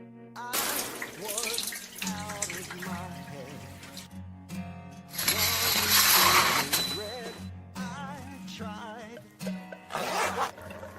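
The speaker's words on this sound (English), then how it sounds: "I follow up with my first circus train shower in 10 years. Fortunately, the water is hot." A hot shower runs aboard a circus train, with water spraying in steady hissing bursts that swell and pause, close and fairly loud, under a low rumbling hum of the moving train.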